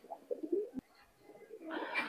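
Teddy pigeons, sold as running adult and baby birds, cooing up close in a few soft low bursts, followed by a brighter, busier stretch of sound near the end; no one speaks.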